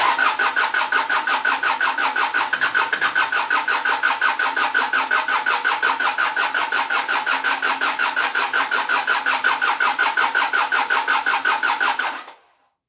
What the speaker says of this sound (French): Il marche trop bien ce moteur.